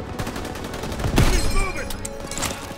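Gunfire in the World War II shooter Call of Duty WW2, a short burst of rapid shots with one sharper crack near the middle, heard under faint game sounds.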